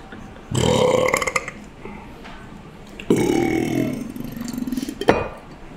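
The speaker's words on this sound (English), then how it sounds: "That was a beautiful burp." Two long, loud, rumbling burps in a burp challenge, close to the listener, each lasting over a second, with a short pause between them and a brief sharp sound at the end.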